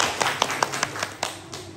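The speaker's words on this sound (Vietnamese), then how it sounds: "đề nghị mọi người cho một tràng pháo tay" Hands clapping at a Vietnamese quan họ folk song club gathering, a short run of distinct, fairly close claps at an uneven rhythm over quiet background.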